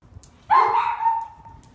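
A pet dog belonging to actor Chris Evans lets out a single loud, close bark that rings on and trails off over about a second, with no talking.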